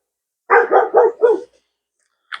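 A pet dog barks four times in quick succession, close and loud, then falls silent before a faint short yip at the end; no talking over it.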